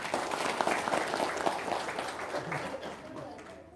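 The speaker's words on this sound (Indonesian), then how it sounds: "Tepuk tangan dong." Audience applause at an Indonesian spiritual talk event, a brief burst of moderate clapping that tapers off, with voices mixed in beneath.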